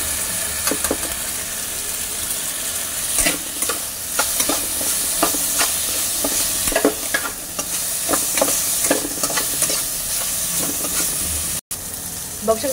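Pasta stirred and fried in tomato sauce in a pan, a loud continuous sizzle broken by repeated close scraping and clinking strokes of the spoon, with no talk.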